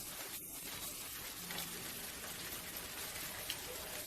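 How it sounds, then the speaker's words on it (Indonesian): Rain falls in a soft, steady hiss of drops at a low level, with no talk. "Hujan turun."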